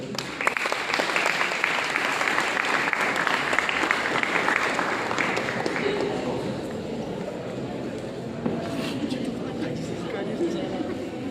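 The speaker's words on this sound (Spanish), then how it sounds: "pido un fuerte aplauso para la doctora Hilda" A crowd at a cultural week event in Moniquirá applauds loudly, dense clapping that gradually softens over several seconds, with murmured chatter and a voice emerging underneath near the end.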